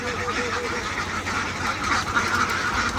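Domestic ducks quack and honk at a pond, a dense overlapping chorus with a voice speaking beneath and between the calls.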